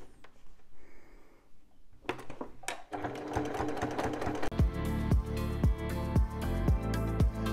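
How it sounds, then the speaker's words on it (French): After some quiet handling, a sewing machine starts topstitching a backpack, running in steady bursts with a rhythmic mechanical thump from each needle stroke, close up. "Il ne me reste plus qu'à faire une petite surpiqûre."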